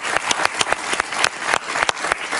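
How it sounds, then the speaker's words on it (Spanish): A studio audience at a talk show interview applauding, dense continuous clapping from many hands, lively and close throughout. "Un aplauso para ella, por favor."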